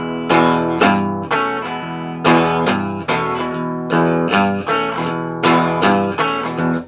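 A guitar plays a blues riff, a close, clear, repeating pattern of plucked notes and short chord stabs at an even, driving rhythm with no talking.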